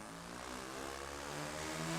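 Twin propeller engines of a B-25 Mitchell in the RealFlight 7.5 flight simulator throttle up, a dense steady drone slowly building in loudness over about two seconds with no voices.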